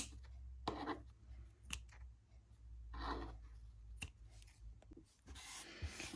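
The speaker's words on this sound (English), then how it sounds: "now you can cut these yarns" Scissors snip through crochet yarn tassels in a few short, close, crisp cuts separated by quiet rubbing and handling noises.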